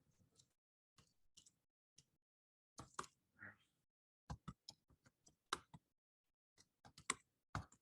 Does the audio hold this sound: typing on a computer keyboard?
yes